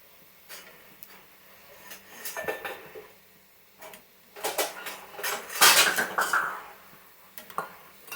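Metal utensils clink against pots and a bowl while wheat-flour kesari mixture is strained, with scattered light taps early and a denser burst of scraping and clattering in the middle, fairly close and with no talk.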